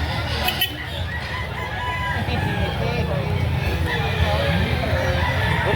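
A rooster crows loudly nearby at a chicken market, over a background of murmuring voices and outdoor noise.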